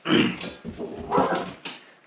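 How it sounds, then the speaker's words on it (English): A dog barks close by: three or four loud, sharp barks in an uneven run, with short pauses between them and no talk over them. "Abby, no barking."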